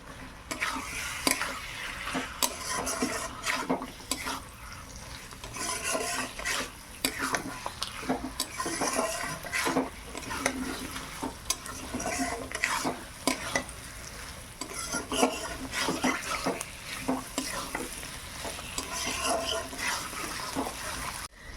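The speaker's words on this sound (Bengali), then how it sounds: "মাংসটার সঙ্গে সঙ্গে আমি ধনে পাতাও দিয়ে দিলাম, একসঙ্গে কষিয়ে নেব।" Chicken pieces and coriander leaves stir-fried together in a pot without water, spatula scraping steadily through a continuous sizzle, close and moderately loud, with no talking.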